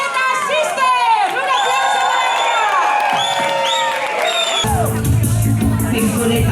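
A crowd cheers, whoops and shouts enthusiastically for a feminist cabaret act at a radio station's anniversary show, loud overlapping high voices, then applause and noise take over near the end.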